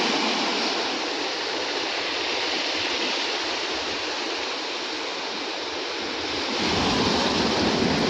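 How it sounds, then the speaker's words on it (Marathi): Big sea waves washing in at a shore where people fish, a continuous loud roar of surf with wind buffeting the microphone, swelling slightly toward the end, no talking. "त्याला पाणी पण बघा किती जास्त आहे लाटा मोठ्या आहेत"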